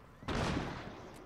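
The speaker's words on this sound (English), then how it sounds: "Just lay down and watch the fireworks." Fireworks go off in the video game Rainbow Six Siege: one broad, loud burst hits, then a rumbling crackle fades over about a second.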